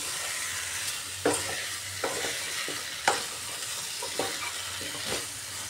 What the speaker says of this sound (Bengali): একটু সময় কষিয়ে নিতে হবে সব মশলার সাথে কচুটাকে